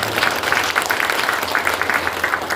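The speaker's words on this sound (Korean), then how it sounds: "박수 한번 쳐주시기 바랍니다." Applause from an audience at a party committee launch ceremony in a chamber of commerce hall, a steady wash of clapping lasting a few seconds at moderate loudness, with faint crowd murmur beneath.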